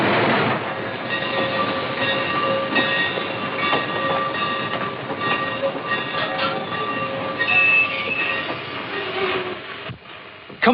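A train rolls along the rails with rhythmic clickety-clack of wheels and metallic squeals, steady and moderately loud throughout, tapering with a brief drop near the end.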